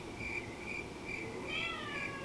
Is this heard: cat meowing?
yes